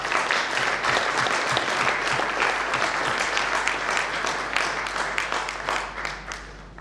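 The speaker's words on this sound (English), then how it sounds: "a big round of applause for Pallabhai." Seminar attendees in a hall give a sustained round of applause, dense and even at first, then gradually tapering off toward the close.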